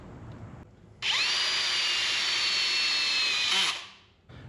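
A power drill drives a self-drilling screw into a minibike cover plate, whining steadily for about three seconds, its pitch bending slightly as the screw bites, then spins down into quiet.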